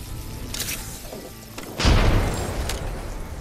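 Grenades go off in an Apex Legends firefight: a few sharp cracks, then a heavy, deep boom near the middle that rumbles on, with lighter pops trailing after it.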